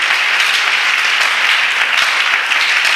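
A congregation at a Friday church service in Brazzaville applauds, dense steady clapping from many hands filling the whole stretch evenly with no pause.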